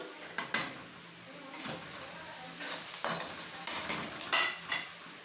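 Spices and green chili stirred in a frying pan for an aloo matar dish, with a steady sizzle of frying and several scraping stirs of a utensil against the pan, fairly close and with no talking.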